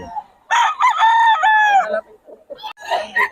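A full stag rooster crows loud and close in one long drawn-out call lasting about a second and a half, followed by softer clucking and other fowl sounds.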